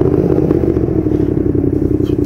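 Motorcycles idle and rumble steadily along a street lined with motorcycle repair shops, making a loud, continuous engine drone with light clatter over it.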